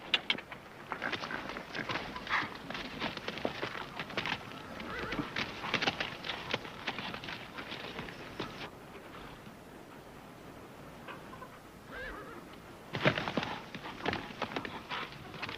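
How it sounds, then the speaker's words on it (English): Horse hooves clop on the ground in a steady walking rhythm with a neigh or whinny mixed in, moderately close. After a quieter stretch the hoofbeats return. "Here, I got your horse here."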